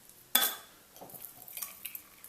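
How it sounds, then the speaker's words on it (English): A sharp clatter starts a cocktail shaker going, then ice rattles inside it in loose, uneven bursts, fairly close and moderately loud. "And then we're going to shake, because we want this to be cold."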